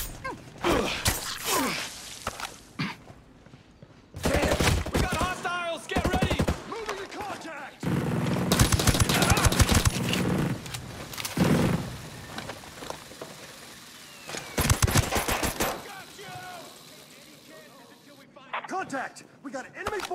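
Gunfire in the tactical shooter Ghost Recon Breakpoint, loud bursts of shots broken by short quiet gaps, with mechanical clatter and voices shouting in between.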